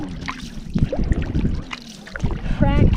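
A kayak paddle sloshes and splashes through water on the left-side stroke, with short wet surges and trickling drips, close up with some wind noise.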